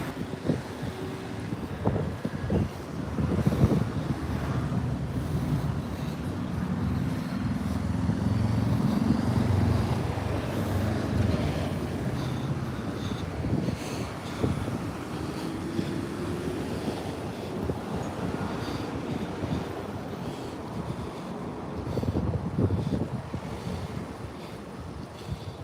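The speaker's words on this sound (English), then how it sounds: "The wind is just mad, like it's supposed to be May" Strong wind roars outdoors in a steady, loud rush that swells and gusts, buffeting the microphone, with surf-like noise throughout and no talk.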